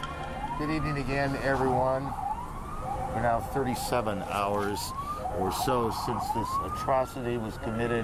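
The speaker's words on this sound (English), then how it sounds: "You can hear the sirens still in the background." Emergency vehicle sirens wailing through New York City streets the day after the September 11 attacks, rising and falling tones that persist steadily under a news anchor's speech.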